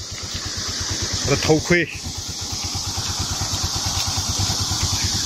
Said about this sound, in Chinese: 现在就这样怠速，挂着二档，慢慢的往前走。